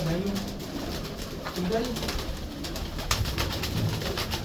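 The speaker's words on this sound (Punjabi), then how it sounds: "ਦੇਖੋ ਹੈ ਕਬੂਤਰ ਕਹਿੰਦਾ ਕੱਢ ਮੈਨੂੰ ਬਾਹਰ।" Domestic pigeons of the Ferozpuri breed in a rooftop breeding loft give soft, low, repeated coos close by, while someone speaks briefly over them.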